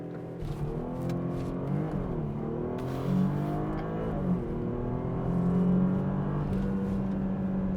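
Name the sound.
Porsche Panamera launch start, hard acceleration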